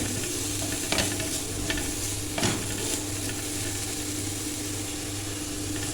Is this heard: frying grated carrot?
yes